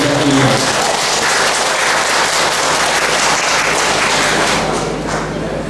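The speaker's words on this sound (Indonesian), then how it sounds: "kita sambut dengan tepuk tangan yang meriah" Loud, sustained applause from the audience at a Halal bi Halal gathering of RA and MI schools in Rejotangan district, a dense steady clapping that fills the whole stretch, with a brief voice at the start.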